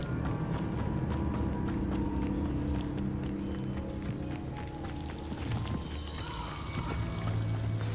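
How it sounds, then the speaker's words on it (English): Continuous rushing water from a waterfall in a Hogwarts Legacy game scene, a steady broadband wash that stays loud and even throughout, with no speech. "The waterfall."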